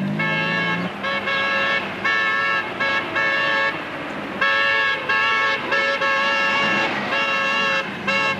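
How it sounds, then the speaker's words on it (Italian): A car horn from a 1986 Italian film scene sounds in repeated long honks, near and loud, with short breaks between blasts, over a rumbling traffic background. "E mi raccomando, suoni sempre il clacson."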